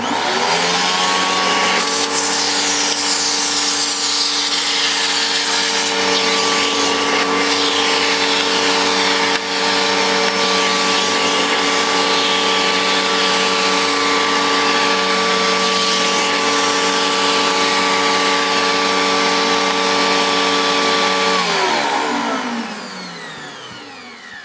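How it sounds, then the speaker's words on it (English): Panasonic MC E47 upright vacuum cleaner running with its crevice tool, a loud, steady motor drone with a high whine, holding constant for about twenty seconds before winding down at the end. "I will need to get my crevice tool out and finish the job properly."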